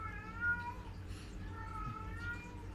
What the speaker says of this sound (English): my cat's making the rounds, I apologize